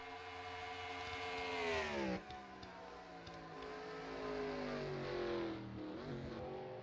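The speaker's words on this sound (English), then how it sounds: "Here's another flyby." A race truck in a pizza-truck racing video game at Lime Rock roars past in a flyby, its engine pitch rising then sweeping sharply down, followed by another engine passing with a similar falling whine.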